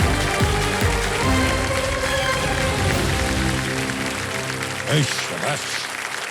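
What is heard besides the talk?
studio audience applause for a KBC contestant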